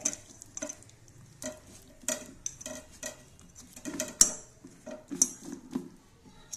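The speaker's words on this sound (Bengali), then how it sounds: "এবার এটাকেও আমি মিশিয়ে নেব ভালো করে" A spoon works bitter gourd leaf fritter batter after a few drops of oil are added, giving quiet, intermittent scrapes and light clinks against the bowl with no talking.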